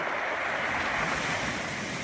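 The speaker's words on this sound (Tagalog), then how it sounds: "Lakas ng alon kailan. Ayun, dinig nyo. Lumalagapak." Strong storm waves break and roar continuously against the rocky shore at Bahay na Bato in Luna, La Union, a dense, steady wash of surf mixed with wind noise.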